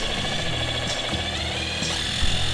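A cordless power drill whirs steadily with a rough grinding buzz as a hole saw bites into a wooden board, loud and close throughout.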